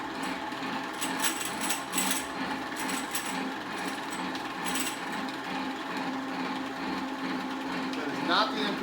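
Light metallic rattling and clicking from a Mitsubishi 3000GT/Stealth transmission, heard close in irregular bursts over a steady mechanical drone, with a brief louder knock near the end.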